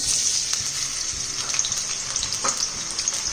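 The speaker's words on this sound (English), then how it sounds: "Oil is heated up. Let's add in sliced potatoes." Sliced, quartered potatoes dropped into hot oil, which erupts into a loud, bright, continuous sizzle with scattered pops and crackles, close and steady.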